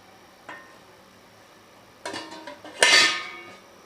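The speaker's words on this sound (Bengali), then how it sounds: "দিয়ে এবার এটা ওকে বাটিটাকে বসিয়ে দেবো। বসিয়ে এবার আমি ঢাকনা দিয়ে দেবো।" A bowl set down inside a cooking pot and a lid placed over it while making panta bhat dhokla, a soft clink followed by louder metallic clatters of the lid settling, close and alone.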